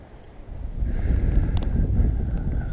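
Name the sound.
wind blowing outdoors while fishing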